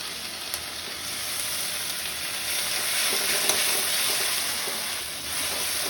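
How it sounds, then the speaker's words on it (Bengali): A ground paste of chilli, ginger and garlic fries in hot oil in a home kitchen, giving a steady close hiss and crackle with light stirring. "মশলাটা ভাজা হয়ে গেছে"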